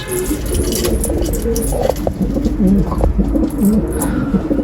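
Pigeons kept in a loft coo softly and repeatedly, close by, over a steady dense background of fluttering and rustling, with no talking.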